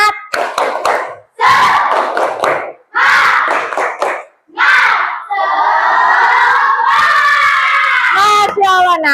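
A group of children performs the 'tepuk semangat' clapping chant in class, with loud bursts of sharp claps and shouted, sung chanting, repeated several times and ending in a long, sustained shout.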